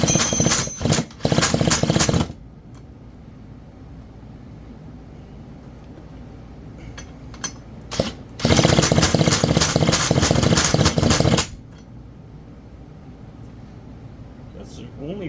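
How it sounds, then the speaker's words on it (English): A farm saw engine cranked over by a drill during a compression test, two loud harsh bursts of rapid rhythmic cranking separated by a quieter idle stretch. "And let's crank her over a bit."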